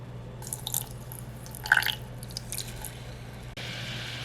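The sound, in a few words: water poured into pan with sugar for caramel sauce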